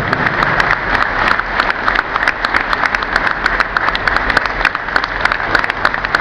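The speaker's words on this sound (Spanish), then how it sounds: "El aplauso para él." An audience at a police ceremony in La Matanza applauds the judge, with dense, steady clapping that continues without a break throughout.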